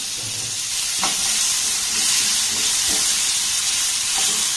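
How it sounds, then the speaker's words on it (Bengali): Chopped onion and green chillies fry with whole cumin in a hot pan, making a steady close sizzle and hiss punctuated by a few soft scrapes as they are stirred. "এবার পেঁয়াজ আর লঙ্কাটাকে একটু নাড়াচাড়া করে ভেজে নেব"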